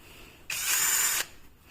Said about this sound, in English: how much you should drill, you drill until this hole pops through